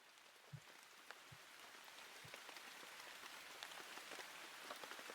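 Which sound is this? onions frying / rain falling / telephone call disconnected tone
rain falling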